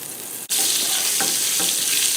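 Butter sizzles in a medium frying pan on a stove: after a brief dip, a loud, steady bright hiss of frying takes over, with a couple of soft crackles within it.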